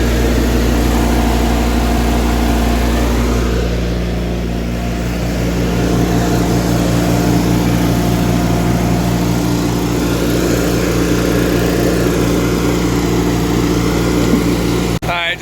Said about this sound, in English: Air compressor just kicked off, so it's full.